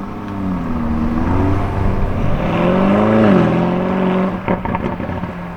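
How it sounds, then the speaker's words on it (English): A Lamborghini Urus S drives past, its engine note rising and falling as it shifts and swells close by, then fading with some lighter clatter near the end; no one talks. "Okay, another Urus. It's a Urus S."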